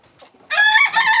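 A farm rooster crows at close range on a Saturday morning, one loud, strained crow after a faint soft cluck, brief and on its own with no talk over it.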